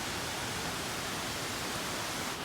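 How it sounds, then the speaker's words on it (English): Long Creek Falls on the Appalachian Trail near Springer Mountain gives off a constant, even hiss of falling water. It is a broad, steady wash of sound with no talk, heard at moderate distance. "So the name of this falls is Long Creek Falls"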